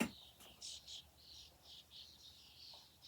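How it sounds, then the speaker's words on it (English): Faint, distant birds chirp in short repeated calls against a quiet outdoor background, with a soft insect-like trill. "You hear those birds?"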